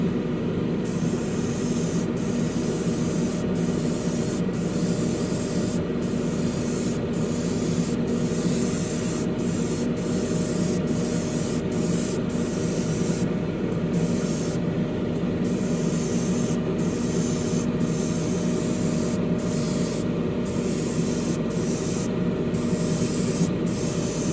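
An aerosol spray can lays a light coat of paint on the frame of an AMT 1967 Impala Street Machine model car kit, giving a continuous close hiss broken by regular brief pauses.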